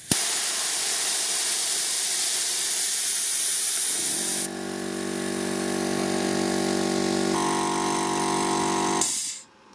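An air compressor runs off a Blackview Oscal PowerMax 3600 power station: a loud hiss of air at first, then a steady droning motor hum that shifts pitch slightly before cutting off.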